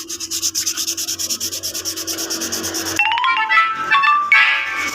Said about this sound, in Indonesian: kita gosok seperti ini sampai halus